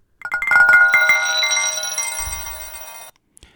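A bright percussive sample rings out on a Waldorf Iridium synthesizer particle engine, starting with a few quick metallic strikes that blur into a shimmering bell-like sustain, then a short tick after it stops.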